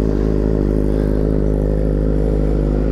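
Loud, deep exhaust of a 2023 BMW M 1000 RR with an SC Project aftermarket exhaust idling close by, a steady throbbing rumble with a rough, lumpy burble and no voices.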